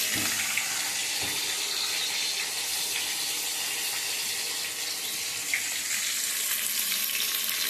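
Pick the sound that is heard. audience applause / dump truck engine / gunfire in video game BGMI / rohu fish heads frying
rohu fish heads frying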